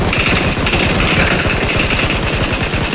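Rapid automatic gunfire in the video game PUBG Mobile: a steady, loud stream of fast repeated shots runs without pause throughout, close and dominant.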